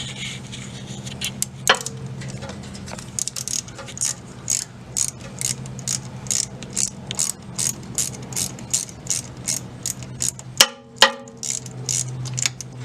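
Ratchet clicking as it loosens 8mm bolts on a Jeep JK front driveshaft, close and steady with repeated quick pawl clicks and a few sharper metallic knocks near the end.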